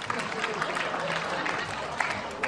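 Applause from a stand-up comedy audience, a steady, fairly distant patter of many hands clapping with faint crowd murmur mixed in.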